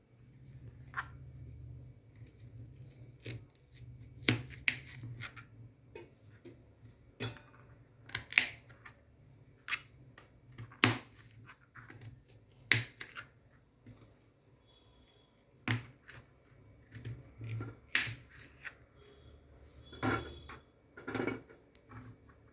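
Knife chopping carrots into pieces for a carrot soup, before they go into a pressure cooker with potatoes: quiet, irregular taps and clicks on a cutting board, spaced unevenly, with no talking.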